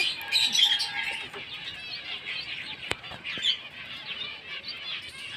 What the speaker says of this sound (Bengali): পায়রা এখনও উঠছে এই যে একজোট হয়ে